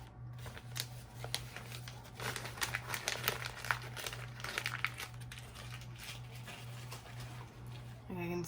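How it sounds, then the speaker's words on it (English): Paper is rubbed down and then peeled up during an image transfer, giving close, dry crinkling and scratchy rustles in irregular bursts, with a steady low hum underneath. "Just kind of rub that down. Peel it up."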